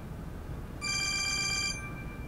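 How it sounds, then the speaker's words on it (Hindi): A telephone rings with an incoming call, a single bright electronic trill lasting under a second, against a quiet hissing room background with no talking. "अरे तना का फोन है।"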